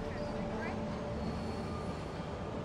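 A train in Marvel's Spider-Man game gives a continuous low rumble throughout, steady and fairly loud, with a faint brief squeal near the start.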